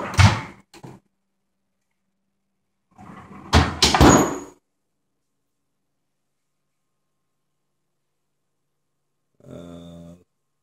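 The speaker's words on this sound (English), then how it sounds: "then pull out freezer drawer." A freezer drawer is pulled out of a Maytag refrigerator, giving a few loud clunks and a short sliding rattle midway, with brief knocks at the start and a fainter rattling noise near the end, in an otherwise quiet room.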